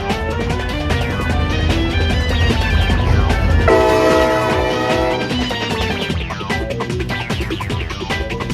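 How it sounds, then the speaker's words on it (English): A Norfolk Southern local train on the Ohio plains sounds its horn, a loud, sustained chord blasting in the middle over the heavy rumble and clatter of the passing train. "it had a very nice leader with a great horn"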